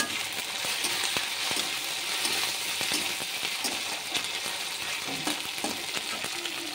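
Chopped tomatoes frying in oil with spices in a pan, a steady close crackling sizzle throughout, with occasional light clicks from stirring and no voices.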